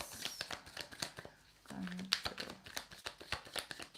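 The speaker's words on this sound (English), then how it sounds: "I want to shuffle one more time." Rapid crisp riffling of tarot cards being shuffled, a quick flurry of clicks that repeats in short bursts, with a person talking over it.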